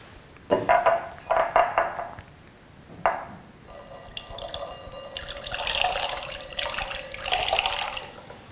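Asturian cider poured from height into a glass: a few short splashing bursts, then a sustained bright fizzing, gurgling stream that swells and fades, close and fairly loud with no talk.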